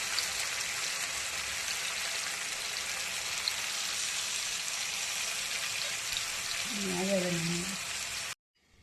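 Water hits garlic and green chili paste in a hot pan, making a steady, close hiss and sizzle that runs unbroken. A brief voice rises near the end, then everything cuts off abruptly.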